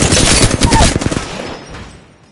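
Rapid, loud video-game gunfire cracks out in a dense burst of close shots, then thins and trails off into a fading echo.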